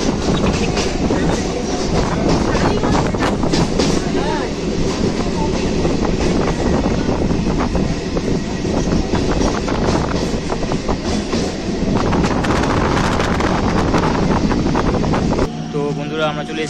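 Local train running on rails between Sealdah and Majerhat in Kolkata, a continuous loud rumble with rhythmic clickety-clack and wind noise throughout.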